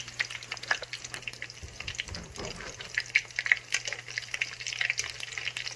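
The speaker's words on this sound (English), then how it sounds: "The egg roll's cooking, okay?" Egg rolls in their wrappers fry in a pan, a lively close crackle of spitting oil with a quick clatter of handling midway and a faint low hum beneath.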